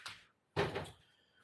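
A drawer in a bike workshop shuts after a tyre gauge is put away, giving a short soft bump, a brief pause, then a louder sliding thud that fades quickly.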